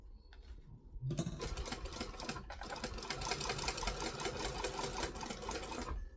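Sewing machine basting vinyl to vinyl with clips holding the pieces, bobbin thread running low; after a brief pause the stitching starts and runs at a steady, continuous whir close by, alone without talk.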